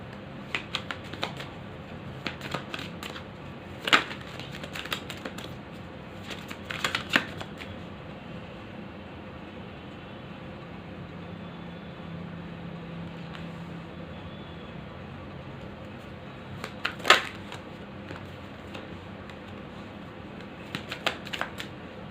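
Tarot cards are shuffled by hand at close range, giving soft continuous riffling with sharper bursts of snapping card noise every few seconds, and no speech is heard.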